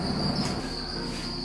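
Farmed crickets chirp in a breeding container, a steady high-pitched trill running unbroken and fairly close throughout, with faint low background rumble underneath.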